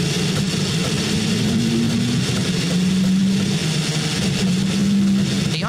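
Number 8 Toyota endurance race car at the Nurburgring 6 Hours heard onboard: a loud, continuous engine drone holding a low steady pitch with slight wavering, no clear revving or shifts.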